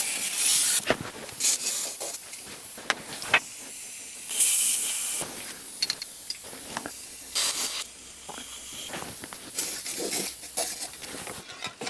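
An old aerosol spray can hisses in a series of short and longer bursts while spraying parts of a Tesla Model 3, each spray sharp and close, separated by brief pauses with faint rubbing and handling noises.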